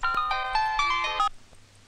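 A mobile phone ringtone plays a bright, tuneful electronic melody for just over a second and then cuts off, leaving quiet room tone with no talking.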